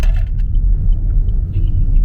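Steady low road rumble of a semi-truck passing close by, a deep continuous drone with faint higher whooshes on top.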